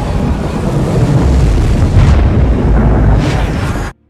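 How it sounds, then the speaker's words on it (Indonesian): A bomb detonates at a lake in a film, a loud, sustained roaring blast with rumbling low end that fills about four seconds before cutting off abruptly. "Akhirnya bom yang dipasang Hazard meledakkan seluruh isi danau, sekaligus membunuh Morris serta komplotannya."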